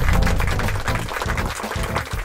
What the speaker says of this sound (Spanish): recibamos con un fuertísimo aplauso a Snell